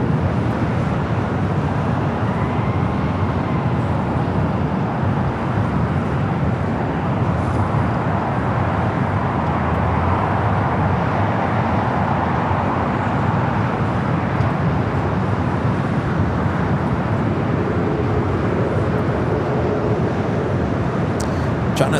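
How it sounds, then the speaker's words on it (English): A Boeing 787 Dreamliner departing Los Angeles LAX for Frankfurt, a steady distant broadband engine roar that swells gently and holds for the whole stretch, with faint airport background noise mixed in. "The Dreamliner heading back to Frankfurt,"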